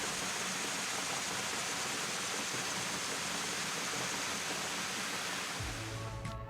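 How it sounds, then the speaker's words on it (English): Small waterfalls spilling off a lake shoreline into emerald green water, a dense, steady roar of falling water heard continuously and fairly loud, with a low motor hum rising near the end. "a series of smaller waterfalls decorated the shoreline, spilling into the emerald green water"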